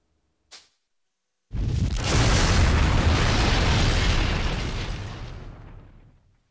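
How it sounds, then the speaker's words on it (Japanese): An engine section blows up in the video game Fuga: Melodies of Steel 2, a brief pop followed by a massive roaring blast that rumbles loudly for several seconds before slowly fading. "その攻撃によって轟音を上げながら爆発した。"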